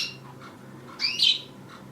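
Budgies chirp in an indoor bird room, with a few soft tweets and then one brighter, louder chirp near the middle, heard alone against a quiet background.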